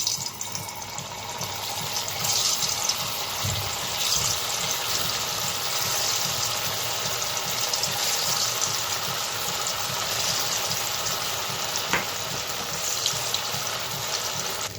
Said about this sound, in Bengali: তো দিয়ে দেব রিফাইন তেল দিয়ে পনিরগুলো ভেজে নেব। তেলটা গরম হয়ে গেছে। তো এক এক করে ছানার বড়াগুলো ছেড়ে দিই।